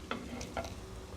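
Vegetables being stirred in a pan after onions have softened, as carrots and cabbage go in: a few short scraping clicks of a spoon over a soft, steady sizzle.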